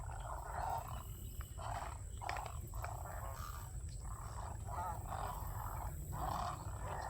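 Loud, repeated bird calls in rhythmic bursts, several wild birds squawking together outdoors at Alligator Lake Park with a constant high insect-like drone behind them.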